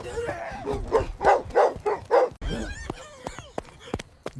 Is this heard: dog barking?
yes